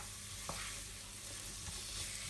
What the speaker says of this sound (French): on va faire suer les oignons dans la casserole avant d'y rajouter les potirons